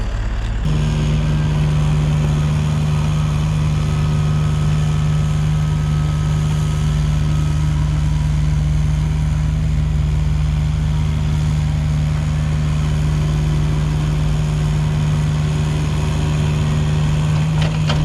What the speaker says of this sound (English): he'll come behind us with the tractor and kind of be dressing this up as he comes across